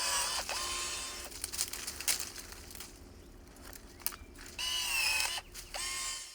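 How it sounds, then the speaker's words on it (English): Einhell 18V GE-LS 18 Li cordless pruning shears working through a thick 32 mm oak branch, whirring motor bursts with ratcheting, crunching cuts over several attempts, close and moderately loud. "multiple attempts are needed to cut through the thick 32 millimeter oak trunk"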